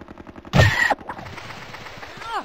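Gunfire from the Hogs of War video game: one short, loud burst of shots about half a second long, with quieter game sounds before and after it.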